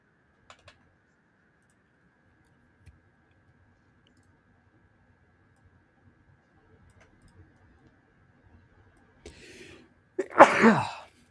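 A single loud, close sneeze bursts out near the end, after a long quiet stretch with faint scattered clicks from a computer keyboard at a trader's desk.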